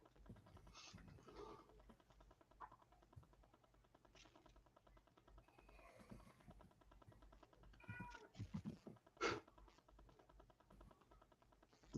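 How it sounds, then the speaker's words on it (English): A cat meows repeatedly indoors, with some fairly quiet calls and a louder cry near the end. A faint room hum and scattered background noises sit underneath. "your cat's still talking to you. Yes, it is. You can hear him for sure."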